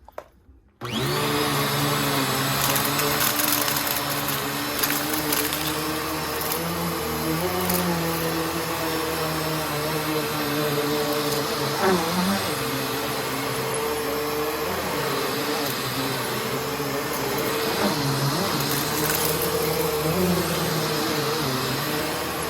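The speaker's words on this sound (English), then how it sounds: "I'll do a vacuum demonstration here in just a second to show you the performance of this machine." A Bissell Powerforce Turbo Pet 3332 upright vacuum cleaner switches on with a brief clatter, then runs loud and steady at close range, its motor whine wavering slightly as it is pushed across the floor.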